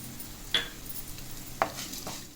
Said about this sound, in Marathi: कढीपत्ता चांगला भाजला पाहिजे ह्याच्यात तेलात